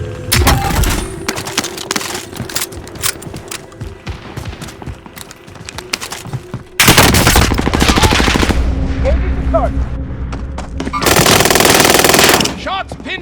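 Bursts of automatic gunfire from the video game Call of Duty Modern Warfare, loud sustained machine-gun volleys with sharp single shots and game sounds in between, a player's voice talking over parts of the action.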